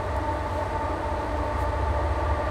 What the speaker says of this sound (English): Here comes a train. It's about to get loud.